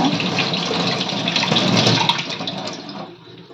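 Running water rinsing long, large potatoes for French fries in a sink or bowl, a steady broadband wash that holds loud and even throughout, then eases slightly at the end.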